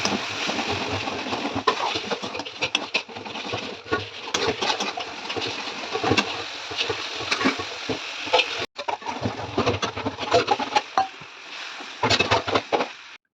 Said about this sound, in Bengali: আমি গরম তেলের মধ্যে দিয়ে দিলাম পেঁয়াজ। আর পেঁয়াজটাকে একটু বেশ লাল লাল করে ভেজে নেব।